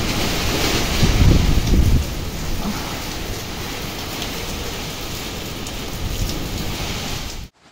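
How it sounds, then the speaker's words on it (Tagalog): Typhoon wind and heavy rain roar steadily, a dense, constant wash of noise with a louder gust early on, buffeting the microphone, and no voices. "So ngayon, binabagyo tayo."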